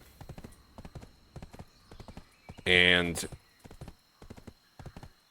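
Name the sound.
horse hooves clip-clopping in Black Desert Online video game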